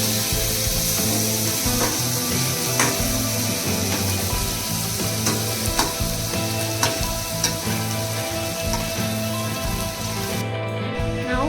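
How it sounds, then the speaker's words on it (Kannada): Green peas, already fried once, are added to hot oil in a pan and crackle in a loud continuous sizzle, with steady scraping and stirring throughout. "ಮೊದಲೇ ಎಣ್ಣೆಲಿ ಹುರಿದಿಟ್ಕೊಂಡಿದ್ದಂಥ ಬಟಾಣಿ ಕಾಳನ್ನ ಹಾಕೋತಾ ಇದ್ದೀನಿ."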